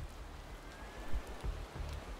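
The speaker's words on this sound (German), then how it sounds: "Oh Gott, es regnet." Rain falling in a Motorsport Manager racing game, a steady hiss of drops on a surface with a few soft low thumps, no voices.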